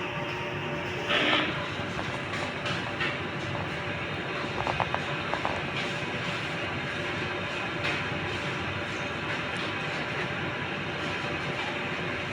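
Sublimation printer, a Smart 6-foot model with two print heads, runs its head cleaning cycle: a steady mechanical whir and hum with faint clicks and brief scraping pulses, continuous throughout with no talk.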